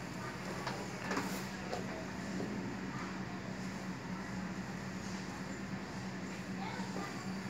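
A sewing machine stitching cloth for a dress neck runs steadily and continuously with a busy mechanical whir and rattle, moderately close, while a person talks over it.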